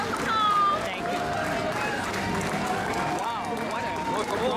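A crowd welcomes home Honor Flight veterans in Washington, D.C., and the broad cheering and hubbub of many voices keeps going the whole time, with nearby talk and some whoops rising over it.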